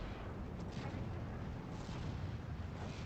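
An off-map artillery strike in the WWII strategy game Steel Division 2 rumbles as a continuous low, heavy roar of distant shelling, with a few sharper bursts rising briefly out of the barrage.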